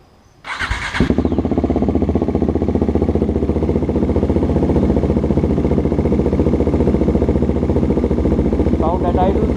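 A KTM Duke 390 motorcycle with an aftermarket exhaust, run without its baffle, cranks up and settles into a close, loud, steady idle with a rapid even thump, sounding alone.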